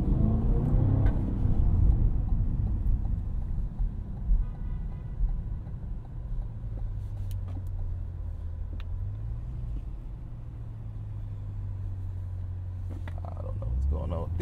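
Cadillac CT5-V Blackwing accelerating on a track, a deep engine rumble that swells early then settles into a steady drone with shifting pitch, heard from inside the car with voices over it.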